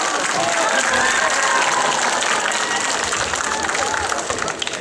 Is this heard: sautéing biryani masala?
no